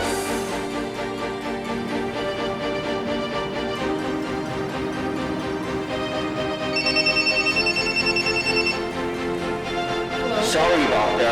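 Telephone ringing in a repeating electronic pattern, bright tonal bursts that are loud and persistent over a dense music-like background, with speech also present.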